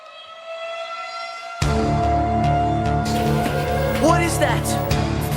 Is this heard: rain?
no